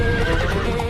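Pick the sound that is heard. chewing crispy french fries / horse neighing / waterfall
horse neighing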